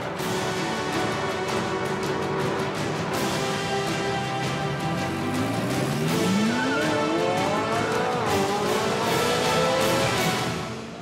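Mini race cars on a track, engines droning steadily with rising and falling pitch sweeps as cars pass and accelerate, moderately loud throughout.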